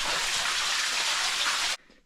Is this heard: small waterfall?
yes